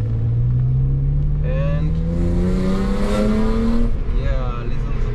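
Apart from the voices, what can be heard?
BMW 320i E36 coupe with 2-liter six-cylinder M52 engine driving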